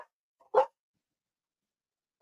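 A large Labrador mutt mix gives one short, close bark in an otherwise quiet room, with a couple of faint fragments of sound before it and another cut off at the end.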